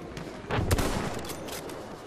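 Gunfire in the World War I shooter Battlefield 1, a burst of moderately loud shots around the middle of the clip over a continuous battlefield rumble, with a few fainter distant cracks afterward.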